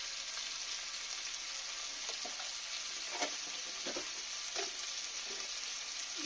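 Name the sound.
stirring papaya curry with spices frying in pan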